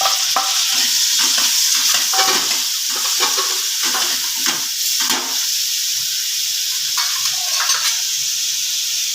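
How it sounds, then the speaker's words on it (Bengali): Onion paste frying with garlic in oil over a low flame for a Bengali shol fish curry, a steady loud sizzle with repeated scraping stir strokes throughout. "রসুনটা গন্ধ দিয়ে ছেড়েছে সামান্য এক চা চামচ পেঁয়াজ বাটা দিচ্ছি"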